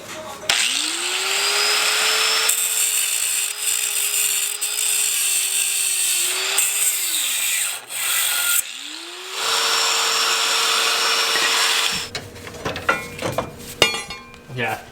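A power tool cuts out the sway bar on an off-road Mazda Miata build. It gives two long, loud, steady grinding whines, the first about seven seconds and the second shorter after a brief pause, followed by scattered clanks and rattles.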